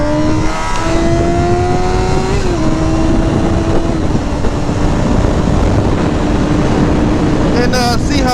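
Wind buffets a microphone outdoors, producing a loud continuous low rumble, while a steady engine-like drone with slowly shifting pitch runs underneath.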